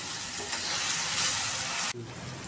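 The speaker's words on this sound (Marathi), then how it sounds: "जरा कांदा भाजला" Onion frying in a pan for Marathi chicken curry, a steady close hiss of sizzling oil that cuts off abruptly near the end, leaving a quieter background.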